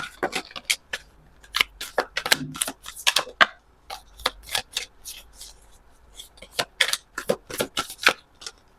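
A tarot deck is shuffled close up in rapid crisp riffles and taps, with a few cards slipping out; faint talk sits in the background.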